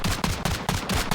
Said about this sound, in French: Ça tire, ça tire.